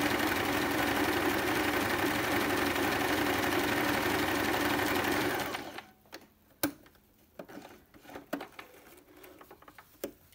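A Singer Piko sewing machine runs a zigzag embroidery stitch with a steady, dense mechanical patter for about five seconds, then stops, leaving only scattered light clicks and handling taps.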